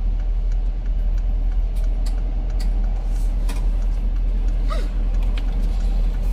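A car's steady road rumble and engine hum, loud and constant from start to end without a break, with a few faint higher whooshes over the top and no talking.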